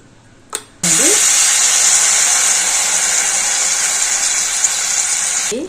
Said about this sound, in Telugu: చట్నీ అయిపోయిందండి. ఇంకా దీనికి పోపు పెట్టేస్తే బాగుంటుంది.